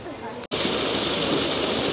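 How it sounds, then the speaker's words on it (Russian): A steady rushing roar of a small waterfall at a monkey park, loud and continuous after a brief cut near the start. "Водопадик обезьяний."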